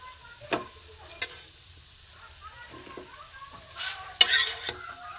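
Spinach tikka fries in a little oil over low heat, a faint steady sizzle broken by a few sharp clinks and scrapes of a utensil against the pan.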